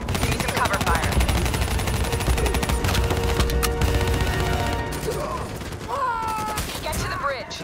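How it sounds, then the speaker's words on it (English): Sustained, dense automatic gunfire in the Call of Duty Black Ops 3 video game, loud and continuous like a battle firefight, with voices briefly heard amid the shooting. "Give me some cover fire."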